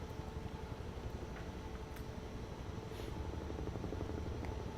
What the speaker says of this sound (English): This helicopter, Huey, has been used in every movie I can think of.